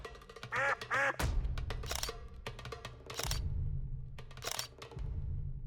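Ducks quack in a few short, nasal bursts close by. Quieter gaps between the bursts carry a low steady hum of background noise.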